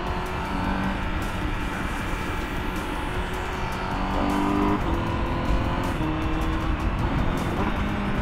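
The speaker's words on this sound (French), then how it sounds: "la symphonie qui sort de cet échappement là" A Honda CBR 1000 RR-R SP motorcycle roars steadily on the road, its exhaust rising and dropping through quick quickshifter gear changes, loud and close throughout.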